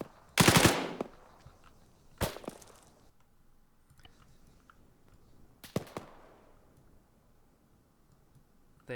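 Gunfire in the military video game Arma: a loud close burst of shots opens, then two shorter separate reports follow at intervals, with faint clicks between them. No one speaks.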